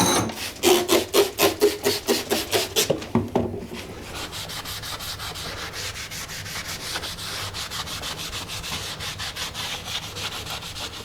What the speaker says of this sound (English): there's some grout stuck under here. I'll go ahead and get it cleaned off